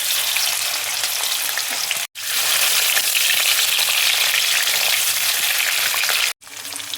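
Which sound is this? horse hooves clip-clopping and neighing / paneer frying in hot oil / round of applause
paneer frying in hot oil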